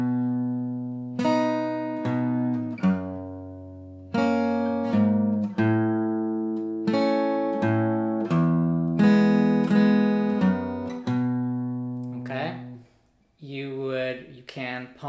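Slow guitar riff from a song with steady rhythmic strums and single notes, each chord ringing before the next, played alone and clearly up close.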